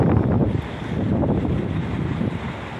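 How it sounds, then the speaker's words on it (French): Cold wind by the Pacific Ocean, with light snow near the Hakodate rail line, buffets the microphone in a steady, rumbling roar with gusty swells and no voices. "Il y a du vent, un peu de neige."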